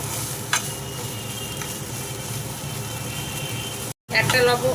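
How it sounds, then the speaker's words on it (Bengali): Spices fried in oil with turmeric powder in a pan are stirred, a continuous close sizzle with faint scraping under it, broken by a brief dropout before the frying returns louder. "একটু হলুদের গুঁড়ো, দিয়ে ভালো করে আমি ভাজতে থাকবো।"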